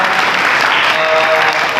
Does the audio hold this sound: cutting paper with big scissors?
no